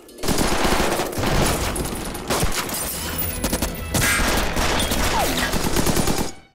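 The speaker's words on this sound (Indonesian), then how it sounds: "Di tengah-tengah aksi baku tembak antara Interpol dan pasukan pembunuh bayaran" Sustained gunfire in a film shootout between Interpol agents and hired killers, loud and continuous, with rapid automatic bursts and overlapping shots that carry on through the whole clip and briefly break off a few times.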